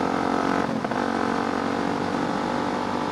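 A Suzuki DRZ motorcycle engine with an oil leak revs steadily up close, a loud sustained drone with a brief dip in pitch and no talking.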